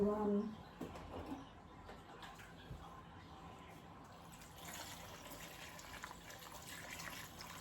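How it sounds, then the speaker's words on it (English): Water pouring into a crockpot holding beef strips and vegetables, a steady soft gushing stream lasting several seconds, close but quiet, after a short voice at the start. "I might just put water in it"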